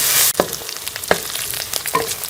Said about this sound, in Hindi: अब हम इसमें ये लहसुन अदरक का पेस्ट भी शामिल कर लेंगे और इसको भी प्याज के साथ जो है हम थोड़ी के ये भून लेंगे